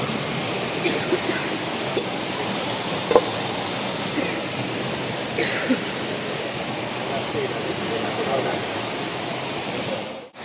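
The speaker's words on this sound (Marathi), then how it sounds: "पाण्याचा आवाज जरा जास्त समजून घेवा" Rushing mountain stream water makes a constant, even roar nearby, with a few faint clicks and knocks over the top.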